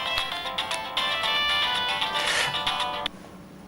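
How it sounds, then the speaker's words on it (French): A telephone ringtone plays loud and close, a bright, continuous electronic melody lasting over three seconds before it cuts off abruptly. "Ah, téléphone."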